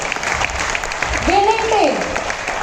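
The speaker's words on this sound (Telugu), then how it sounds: "ఒక్కసారి బిగ్ రౌండ్ ఆఫ్ అప్లాజ్ అండి." An audience claps in a steady round of applause at a business gathering, a dense continuous patter with a voice briefly heard over it.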